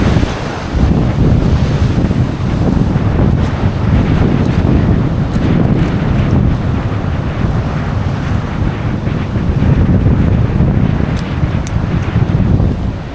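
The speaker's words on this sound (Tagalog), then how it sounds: "Lakas ng dagat." Rough sea roaring continuously with crashing surf, heavy wind buffeting the microphone throughout, loud and close.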